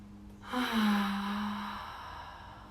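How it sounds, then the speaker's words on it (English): During a yoga session, one slow, deep cleansing breath is heard up close: a soft breathy exhale that swells and then fades, alongside a low steady hum. "Couple more of those breaths. Super cleansing breath."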